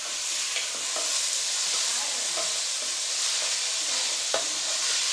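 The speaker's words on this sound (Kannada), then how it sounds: "ಈರುಳ್ಳಿ ಫ್ರೈ ಮಾಡ್ತಾ ಇದ್ದಾರೆ. ಈರುಳ್ಳಿ ಚೆನ್ನಾಗಿ ಫ್ರೈ ಆಗಬೇಕು," Onions frying in hot oil in a home kitchen, a steady bright sizzle throughout with occasional stirring clicks and scrapes, close and moderately loud.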